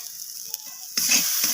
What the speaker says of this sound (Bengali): তো সমস্ত কিছু আবারও নাড়াচাড়া করে কষিয়ে নিচ্ছি।